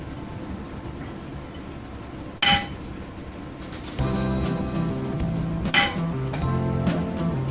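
A spoon clinks against a bowl of drained, still-greasy food at home, giving a few sharp metallic taps, clearest two separate strikes, over a steady low background hum.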